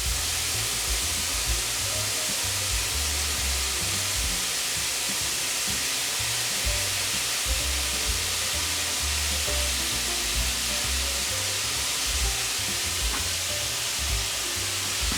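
Diet burger patties fry in a pan with a steady, close sizzle and crackle that runs without a break and with no talking.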